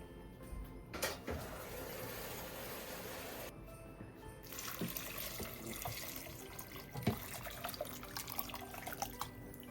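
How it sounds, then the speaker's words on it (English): Filtered water from a fridge is poured over soup vegetables in a pot, a quiet steady trickle and splash broken by a pause and a few soft knocks, heard close and faint. "It calls for just enough water to cover the vegetables. I get mine out of my fridge because it's filtered."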